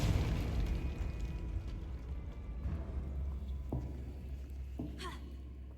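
A Confringo fire spell explodes in the Hogwarts Legacy video game with a loud, heavy burst at the start that rumbles and decays over several seconds, with a few smaller pops and crackles trailing off.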